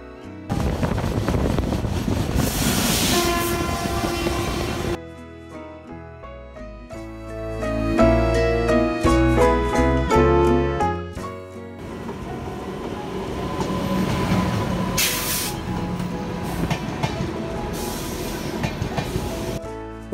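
Train sounds on the 13151 Kolkata–Jammu Tawi Express as it pulls out of a station, with loud rumbling carriages and rail noise. Shifting tonal passages run through the middle, followed by steady running noise and brief high squeals.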